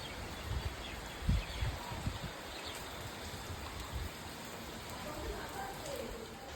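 Steady rain hisses evenly throughout a morning in Chennai, with a few low thumps and gusts underneath and no voices.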